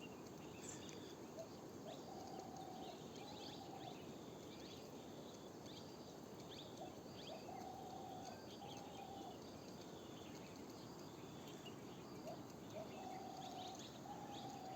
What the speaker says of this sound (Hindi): पक्षी भी दोस्तों मस्ती कर रहे हैं।